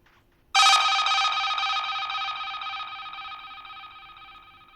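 A sample-pack tone styled like a UK telephone ringtone rings out after a brief quiet lead-in, a bright bell-like chime with a sharp onset and a long, slowly fading ring.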